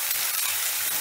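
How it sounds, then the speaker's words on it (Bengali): Chopped onions frying in hot oil in a pan on a raised gas flame, a steady, dense sizzle close up with no talking. "এবারে গ্যাসের আঁচটা বাড়িয়ে দিয়ে আমি পেঁয়াজটা হালকা লাল লাল করে ভেজে নেব"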